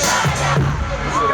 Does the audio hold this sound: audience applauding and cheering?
yes